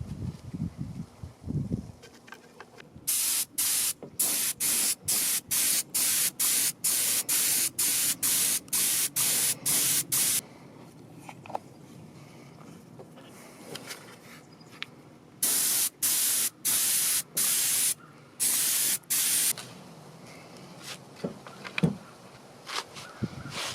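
Ceramic coating sprayed onto pistons in repeated short, sharp hissing bursts with an even rhythm, in two groups separated by a quieter pause, close and loud.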